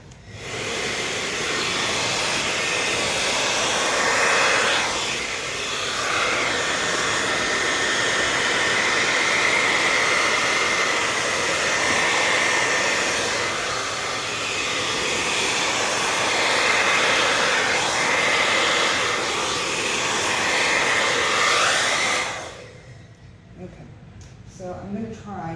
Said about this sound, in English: make sure the hairdryer is on hot